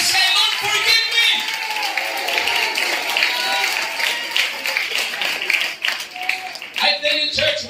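A church congregation at a Holy Communion service claps hands steadily and continuously, the dense clapping mixed with voices and cries of worship rising above it.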